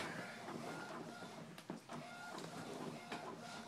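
A printer runs a sheet of vellum, giving a quiet, continuous mechanical whir with a few soft clicks and clunks as the paper feeds through.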